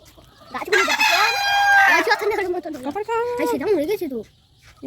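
Chickens at a small home poultry farm, with a rooster giving a loud, close crow followed by a run of wavering clucks and calls from the flock.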